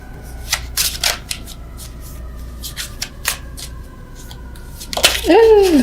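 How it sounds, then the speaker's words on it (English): Quick riffling bursts of tarot cards being shuffled, several short shuffles in a row, close up, ending with a brief voice. "Terrible shuffling with you guys."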